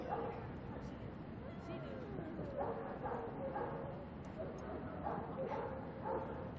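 Dogs yip and bark in a 1990s Moscow dog show ring, the calls rising intermittently over a busy murmur of crowd babble and speech.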